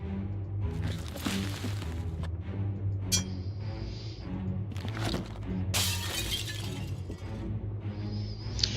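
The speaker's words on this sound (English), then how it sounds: "With a crash, the mirror shatters and sprays the room with glass." In the video game Shadowgate, a mirror struck with a hammer shatters with a loud crash over a steady musical backdrop, followed by scattered tinkling shards and a second burst of breaking glass.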